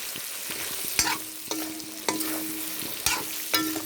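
Pork with garlic and pepper paste frying in oil while being stirred, a continuous sizzle punctuated by about six sharp scraping and clinking strokes of a spoon against the pan, close and alone.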